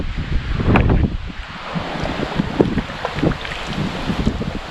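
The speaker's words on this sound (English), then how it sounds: "I think I'll be out of the wind in just a minute." Wind buffets the microphone while kayaking on Rollins Pond, a rough continuous roar with gusty thumps, and water sloshes faintly around the boat.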